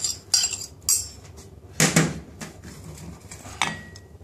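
Mixed fruit smoothie ingredients, including tinned mango and yogurt, are tipped into a container, giving a few sharp clinks and clatters of utensils against dishes in a quiet kitchen.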